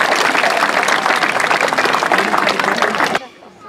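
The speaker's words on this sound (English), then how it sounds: "Well done, give her a big clap." Visitors at a wildlife sanctuary clap loudly and steadily for a bird, a dense burst of many hands with voices mixed in, stopping abruptly near the end.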